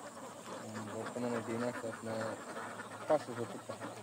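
Ducks on an egg-laying duck farm quack in a busy cluster, their nasal calls overlapping with people talking nearby.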